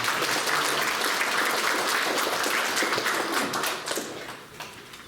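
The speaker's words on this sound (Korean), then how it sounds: "우리 박수로 환영하도록 하겠습니다." A church congregation at a Korean Presbyterian Sunday service claps steadily to welcome the pastor to the pulpit. The dense applause fades over the last second.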